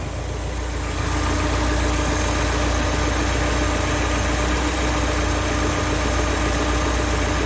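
A car engine idles steadily after its carburettor mixture is wound out richer, a loud, even, close rumble that rises slightly after the first second and holds without talk.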